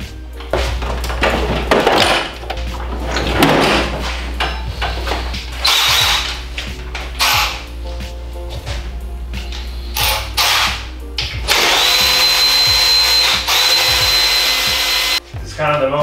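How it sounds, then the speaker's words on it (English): A quarter-inch power gun removes engine bolts during an LS swap on a Miata, with repeated loud buzzing bursts and clanks of tools and metal. "Might as well just use our quarter inch gun."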